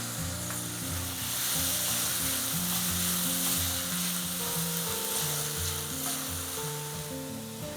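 Finely chopped tomatoes sizzling with fried onions in a pan for a corn palak curry, a dense continuous frying hiss, close and steady, with no talking.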